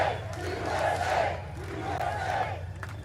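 A large crowd at a Donald Trump rally cheers and roars in loud swelling waves, rising and falling twice, with no talk over it.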